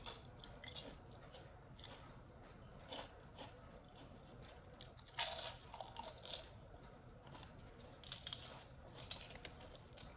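Fried wontons being eaten, with close crisp crunches and chewing bites in an irregular rhythm, fairly faint and without talk.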